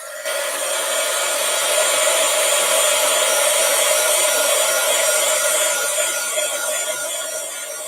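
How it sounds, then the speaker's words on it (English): A crafting heat tool switches on and blows a steady, loud, whirring hiss that holds evenly without a break, close by and with no voices. "I got to turn my heat tool on again"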